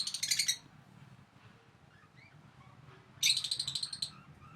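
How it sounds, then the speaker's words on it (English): Caged parrots give two bursts of bright, shrill chirping calls, one at the start and one about three seconds later, with a low murmur of background noise in the gap between them. "Parrot in cage."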